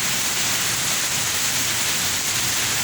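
Steady, dense hiss of rain falling, continuous and fairly loud with no pauses and no voices.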